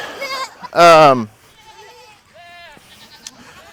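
Goats bleating close by in a farmyard, one loud wavering bleat followed by a couple of fainter calls, with a little background noise between them.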